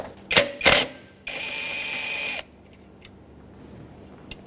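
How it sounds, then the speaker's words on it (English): A socket ratchet on a 13mm mounting nut that holds the main power wire on a Ford F-350's 6.2L V8: a few sharp clicking bursts, then a steady mechanical whir lasting about a second, then a couple of faint ticks, close up with no talking. "Use a 13mm socket. Remove this mounting nut that holds the main power wire on."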